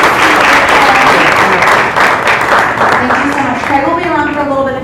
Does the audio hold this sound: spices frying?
no